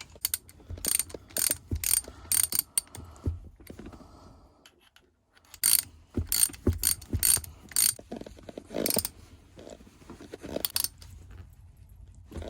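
A ratchet tightens screws on a Hurst Blackjack short-throw shifter being fitted to a T5 transmission, giving bursts of rapid metallic clicking that come in quick runs separated by short pauses, close up and with no talk.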